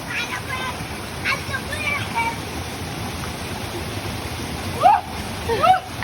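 Cold, clear river water flows and splashes around feet dipped into a river at Mt. Banahaw, a steady close rush with a couple of splashes near the end while voices talk over it.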